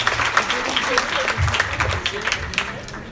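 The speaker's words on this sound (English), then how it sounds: "let's give her a round of applause" Round of applause at a retirement party for the new county director of corrections, a crowd clapping steadily at moderate loudness while voices chatter underneath.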